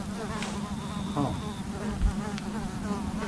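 A swarm of mosquitoes buzzes continuously in a steady, droning hum, close by, with a few faint clicks and knocks in the background.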